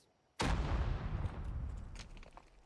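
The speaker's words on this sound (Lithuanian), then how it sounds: "Jau kažkas iš bazukų šaudo." A sudden loud bazooka blast in Call of Duty hits hard, then rumbles and slowly decays, with faint scattered crackles in the background.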